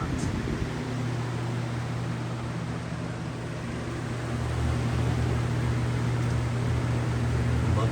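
An Edison box fan with its grill hardware replaced runs steadily with no rattle, giving a constant close motor hum and airy whoosh, loud and unchanging.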